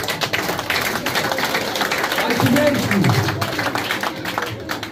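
Applause from an audience at a graduation celebration, a dense wash of clapping with crowd noise and some voices mixed in, steady and moderately loud throughout.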